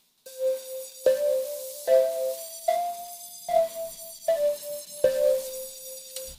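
A clean synthesizer tone plays a series of repeated notes in an even rhythm, with a faint, airy hiss swirling behind each note.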